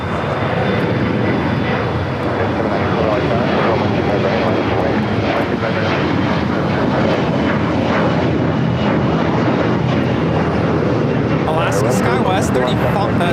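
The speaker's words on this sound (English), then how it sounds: "751 taking off to Monterey on the E175" Embraer E175 regional jet taking off at LAX, a loud continuous engine roar filling the whole stretch, steady and close with faint broadband wind noise.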